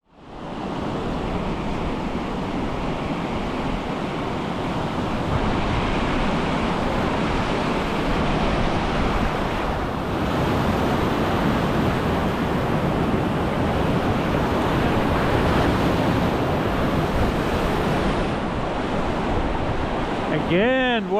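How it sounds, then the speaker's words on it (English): Whitewater rapids on a Patagonian river in Chile rush around big boulders as a loud, steady, broadband roar that holds unbroken for about twenty seconds, with no voices over it. "before navigating the big boulders in the second series of rapids"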